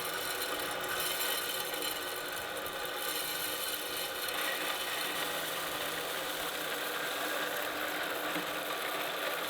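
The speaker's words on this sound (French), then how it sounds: "Donc là en gros on va juste éclater les grains." A grain mill crushing malt grains for home beer brewing, a continuous dense grinding rasp at steady level for the whole stretch, no speech.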